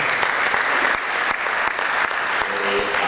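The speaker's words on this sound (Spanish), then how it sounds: "Demos un aplauso a este siervo amado." Church audience at a 2013 gathering in Brussels gives sustained, loud applause for a visiting pastor, steady crowd clapping filling the whole stretch with some voices mixed in.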